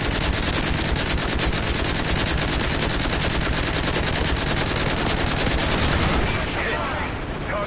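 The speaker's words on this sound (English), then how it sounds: "Take out your LMG." Light machine gun fire in Modern Warfare 3 on the Vertigo Spec Ops mission, a loud, continuous rapid-fire burst that holds for about six seconds before easing into lighter shots and echoes.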